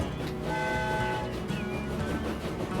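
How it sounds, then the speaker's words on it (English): A steam-era train horn sounding in the railway video game Transport Fever 2, one sustained tonal blast held for about a second over steady rolling train and game background noise, with no talk. "Let's jump into this setting, and we can sound the horn."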